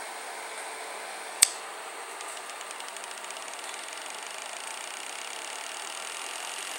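Homemade magnetic motor with a blue fan, which also works as a flywheel, spinning up after a sharp click and then running with a steady, faint mechanical whir.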